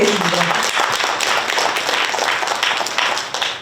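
Loud, warm applause from an audience at a youth social cooperative's support-day event, honoring its chairman, with many hands clapping densely and continuously throughout.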